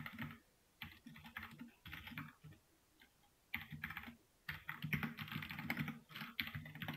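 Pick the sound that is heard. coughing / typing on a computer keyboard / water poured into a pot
typing on a computer keyboard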